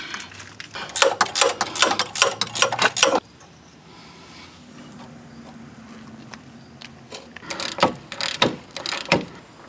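Wrench working loose the 18mm upper and 15/16 lower ball joint nuts on a GMT800 front axle knuckle: a fast run of sharp ratcheting clicks for about three seconds, a quiet pause, then another burst of loud clicks near the end.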